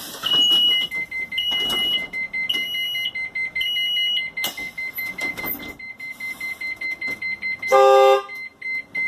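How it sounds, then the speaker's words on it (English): School bus child check alarm sounding inside the bus with the engine off: repeated steady electronic beeping tones in short bursts, then a louder burst of tonal honks near the end, fairly close and loud with no talking. "I'm going to check the alarm first."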